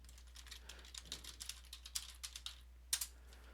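Numbers punched into a calculator produce a quick run of light, clicky key taps in an uneven rhythm, ending in a sharper final press; faint and close, with a steady low hum underneath.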